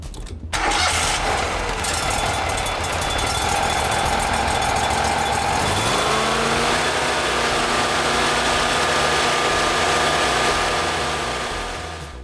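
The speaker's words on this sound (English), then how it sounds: "Start the engine with the engine start key." A Crafco Model 30 crack-cleaning router engine cranks briefly, catches and then runs at a steady, loud idle with a constant mechanical drone, heard alone and close up for the full length.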